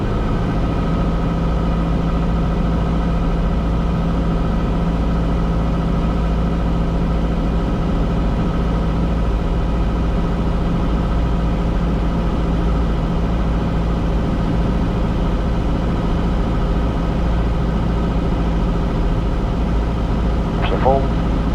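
A small aircraft's piston engine holds a steady, loud drone under power during a solo instrument approach, a constant hum filling the cabin without pause.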